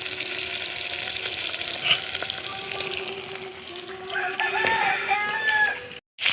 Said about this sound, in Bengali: মাছের মাথাগুলো দেখো খুব সুন্দর ভাজা হয়ে গেছে